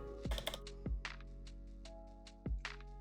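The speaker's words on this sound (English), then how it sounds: "I'm going to start pressing my keyboard as loudly as I can" Keys on a computer keyboard are struck hard in scattered clacks and heavy thumps, with a steady musical tone underneath.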